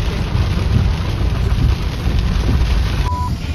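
Heavy rain falls during a rainy day outing in Assam. A loud, dense, continuous downpour hisses steadily throughout, with no talking.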